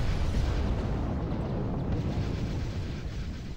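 A spaceship explodes in a Star Wars: Thrawn's Revenge space battle, a dense, sustained rumbling roar that stays loud throughout and slowly eases off.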